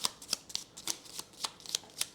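Exploration cards for the board game Aeon Trespass Odyssey are shuffled at the table: a string of crisp, quick riffling snaps, about eight or nine in two seconds, close and quiet with no talk.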